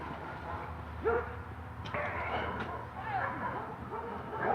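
Dogs bark and yip in scattered bursts some distance off outdoors, under a constant background hum and low voices.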